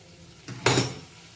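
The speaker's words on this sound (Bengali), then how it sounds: "জল দিলাম পরিমাণ মতন" Water poured into a pan of cooked spice paste for a Bengali prawn dish gives a brief loud splash and hiss lasting about half a second, with a clink of the pan just before it.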